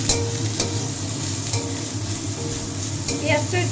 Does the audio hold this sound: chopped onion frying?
yes